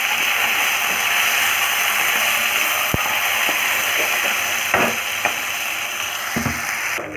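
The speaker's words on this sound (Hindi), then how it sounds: "अभी इसमें करते हैं टमाटर, स्लाइस कटा हुआ टमाटर। इसको हल्का से फ्राई कर देंगे।" Sliced tomatoes fry with browned onions in a pan, giving a loud, dense, continuous sizzle. A sharp clack comes early and a few scraping stirs follow later.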